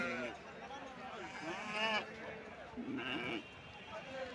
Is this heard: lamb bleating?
yes